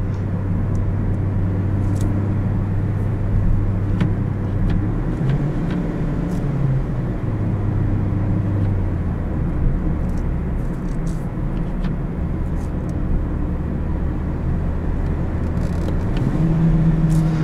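A 2017 Toyota Yaris iA subcompact sedan accelerating hard with kickdown, the engine droning steadily and rising in pitch, then dropping as it shifts gears, heard continuously from inside the cabin with no talking.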